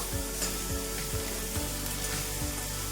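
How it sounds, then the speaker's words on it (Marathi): Onion and garlic sizzle steadily in a hot pan for a spinach and potato dry sabji, a continuous close frying hiss with soft periodic stirring scrapes and no talk. "कांदा छान परतलाय"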